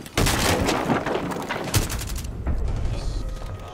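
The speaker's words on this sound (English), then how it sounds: "Fuck, I'm getting shot." Rapid gunfire in a video game, bursts of shots close and loud, overlapping and continuous, with a voice speaking over the shooting.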